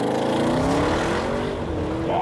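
An Audi RS6 launch-control start: a loud, close engine roar climbing steadily in pitch as the car accelerates hard, sustained throughout without a break.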